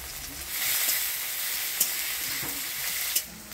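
Chopped onion, tomato and crushed garlic hitting hot oil with bay leaf in a pan, a steady close sizzle with a couple of sharp stirring clinks, no voices.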